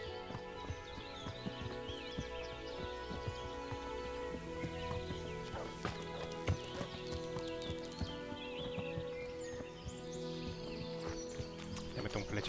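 Horse hooves in the medieval game Kingdom Come: Deliverance, a quiet, steady clip-clop of a ridden horse under a bed of ambient tones and occasional bird chirps, with a faint whinny-like sound and no voices.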